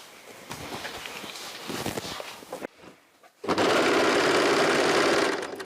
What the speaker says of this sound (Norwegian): Så jeg begynner å sy noen centimeter før.